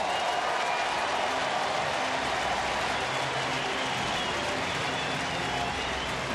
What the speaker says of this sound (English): Listen to the round of applause this guy's going to get.